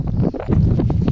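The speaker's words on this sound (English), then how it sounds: "it's windy up here" Loud, continuous wind buffeting a microphone outdoors during metal detecting in the UK, a low rumbling roar with gusty fluctuations throughout.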